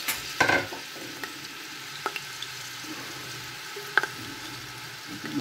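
Onions frying in hot oil for chickpea rice, a soft, quiet sizzle with a few sharp stirring knocks at the start and around the middle, and no voices.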